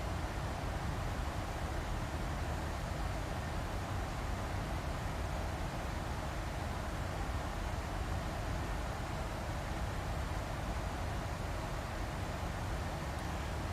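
Boeing 737-8 jet engines in a flight simulator give a steady, even hiss of broadband white noise. It stays quiet and unchanging throughout, with no talk over it.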